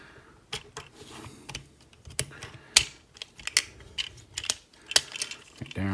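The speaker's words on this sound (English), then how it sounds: "Fold down and around and into the inside of the leg. Come on, there we go. And then bring his feet down. Click them into place." Plastic parts of a Transformers Power of the Primes Leader Class Nemesis Prime toy snapping into place, heard as sharp, irregular close clicks and small clacks in quick bursts against a quiet background.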